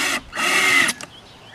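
A power drill drives a screw into recycled plastic sign material for a purple martin house, a short, loud whirring burst after a brief blip, then quiet handling.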